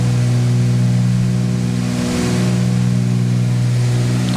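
Loud, steady drone of a Cessna 310's twin piston engines during a climb-out at about 145 mph, heard from inside the cabin as a constant low hum with no talk.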